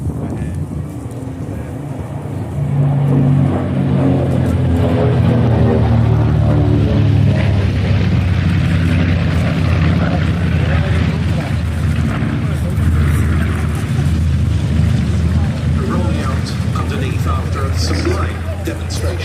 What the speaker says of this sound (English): Demonstration of the Flying Bull's DC-6